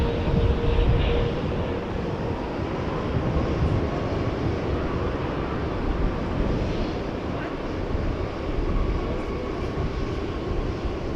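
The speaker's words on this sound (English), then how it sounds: "American Flight 81 arriving from London Heathrow, 777-300ER." An American Airlines Boeing 777-300ER arriving at DFW at night, inbound from London Heathrow, a steady broadband jet roar that holds at an even level throughout without a clear rise or fade.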